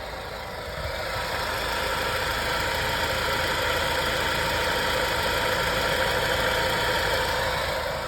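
A Maruti Suzuki car engine idles steadily and close by with the AC on, a constant mechanical hum and a rattling, knocking undertone throughout from an abnormal engine noise; no talking.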